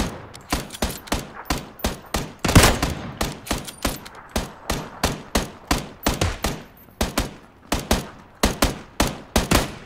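Rapid bursts of gunfire in PUBG, sharp repeated shots volleying steadily across the whole stretch, loud and close with no talk over them.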